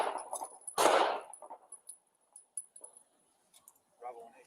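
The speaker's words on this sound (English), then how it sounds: "shots fired" A police officer fires gunshots, with a sharp loud burst near the start followed by scattered smaller clicks and knocks, and a voice briefly audible toward the end.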